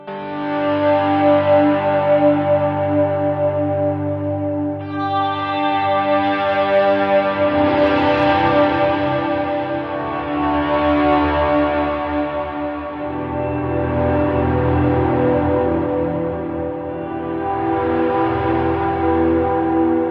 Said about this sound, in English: it should crank up the reverb, which might sound crazy